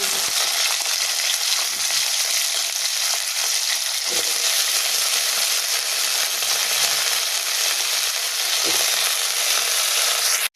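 Potatoes fry in chili oil, giving a loud, steady sizzle that fills the whole stretch, with a few faint stirring scrapes and no talking.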